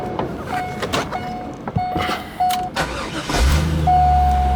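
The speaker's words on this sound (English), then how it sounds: "This engine starts right up." A 1999 C5 Corvette with its 345 horsepower LS1 V8 engine is started nearby, the starter whirring in short bursts before the engine catches and settles into a loud, steady idle.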